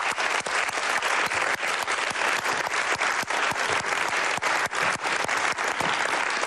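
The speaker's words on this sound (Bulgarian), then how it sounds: "Силни аплодисменти" Studio audience on a Bulgarian game show bursts into loud, close, sustained applause, dense rapid clapping at an even level from start to finish.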